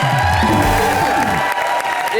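A live comedy show's studio audience breaks into loud applause and cheering with a few whoops, the crowd noise mixed with a musical sting and tones partway through, then settling into steady clapping.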